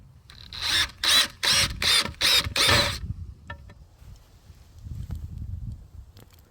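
A power driver sinks 2-inch and 2 1/4-inch outdoor decking screws into wood in six quick, loud whirring bursts, then stops, leaving faint knocks and handling noise.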